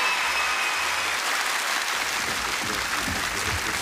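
Audience applause, a dense steady wash of many hands clapping at once, sustained and fairly loud throughout with no voices standing out.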